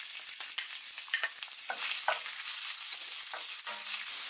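Finely chopped ginger, dried red chillies and chana dal fry in hot oil for poori masala, a close, bright sizzle with repeated spoon scrapes and stirring clatter, no voices.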